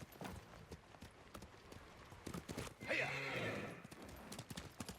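A horse in the video game Ghost of Tsushima: rhythmic hoofbeats clip-clop throughout, with a loud whinny rising in the middle, while someone talks intermittently over the game sounds.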